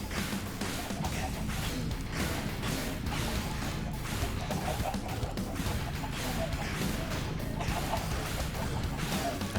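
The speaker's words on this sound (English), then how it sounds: "I see chickens dying" Minecraft Bedrock chickens clucking and being killed, a dense, continuous clatter of clucks and squawks with crashing game noise throughout, loud and steady.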